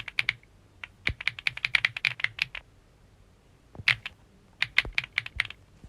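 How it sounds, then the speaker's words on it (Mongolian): Fingers type on a computer keyboard in quick bursts of sharp, close clicks, a flurry of keystrokes, a short pause, then two more clustered runs of taps, no talk. "Нэг компьютерын кейборд дарж байгаа"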